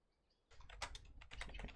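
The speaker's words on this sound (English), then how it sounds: "I don't know if this can actually hear me typing." Rapid typing on a computer keyboard, close and fairly quiet, begins after a brief hush and continues as an irregular flurry of crisp key clicks.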